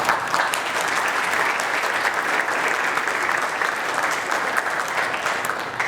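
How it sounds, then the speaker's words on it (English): An audience at a content management system conference keynote applauds, a dense, steady wash of clapping from a large crowd that holds at even loudness for several seconds. "let's give a big round of applause to the Admin UI initiative"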